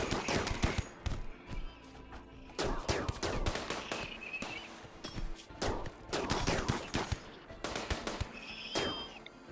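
Gunfire erupts in repeated rapid volleys during a combat firefight in the video game Rimworld, sharp cracks and machine-gun bursts coming in several clusters with brief lulls between them.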